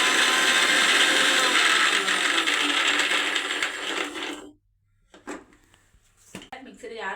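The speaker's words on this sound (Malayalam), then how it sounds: "മിക്സിയുടെ ജാറിലിട്ട് എല്ലാം കൂടെ ഒന്ന് ഒതുക്കിയാൽ നന്നായിട്ടൊന്ന് ഒതുക്കിയെടുത്താൽ മതി." Mixer grinder jar crushing curry ingredients: a loud whirring grind for about four seconds that stops abruptly, followed by clattering knocks and handling noises.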